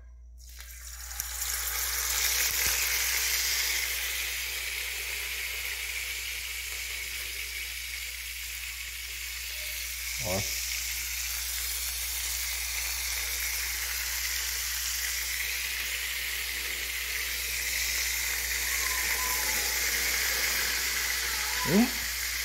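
Traíra fish fillets, skin on, sizzle steadily in hot oil, a constant crackling hiss with a couple of brief clinks of a utensil.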